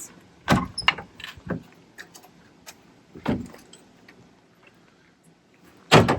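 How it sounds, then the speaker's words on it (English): Folding entry stairs on a Grand Design Solitude RV are swung inward, giving several sharp metallic clanks and knocks, a few close together and then a final loud clunk. "these stairs simply fold in like this"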